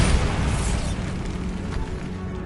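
A Bombarda blasting spell explodes in the video game Hogwarts Legacy, a loud booming burst with rumbling debris that fades over a couple of seconds, no talk.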